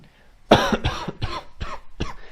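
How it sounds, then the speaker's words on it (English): A burst of harsh, repeated coughs, five or six in a row, loud and close, tapering off at the end. "He starts coughing"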